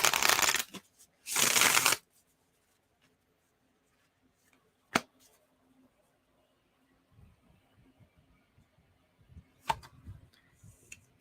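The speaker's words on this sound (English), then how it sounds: "This is the last shuffle for sure." Tarot cards being shuffled up close: two loud riffling bursts in the first two seconds, followed by mostly quiet handling with a couple of sharp card snaps and soft rustles.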